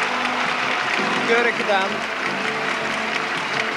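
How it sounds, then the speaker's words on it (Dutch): A basketball hall crowd in Mechelen applauding, with a continuous wash of clapping that runs under a commentator's voice throughout. "Kreeg een uitbundig applaus hier van de zaal."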